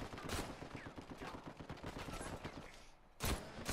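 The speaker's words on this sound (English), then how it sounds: "they're shooting us!" Enemy gunfire in the video game Uncharted 4 comes as rapid, dense bursts that crackle nonstop for several seconds, then a short lull and a loud fresh volley near the end.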